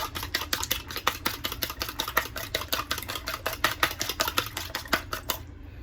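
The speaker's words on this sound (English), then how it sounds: "Just grab egg here. Whisk it really quick." An egg whisked quickly in a bowl while making pork egg rolls, a rapid, steady run of light tapping strokes of the utensil against the bowl, close and even, stopping abruptly at the end.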